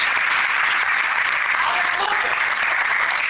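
A church congregation applauds during a sermon, a dense continuous wash of many hands clapping, steady and fairly close throughout.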